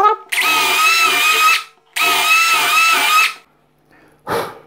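A power drill drives a 5x80 full-thread screw into wood in two loud, sustained whining bursts of about a second and a half each, close up, followed by a brief clunk.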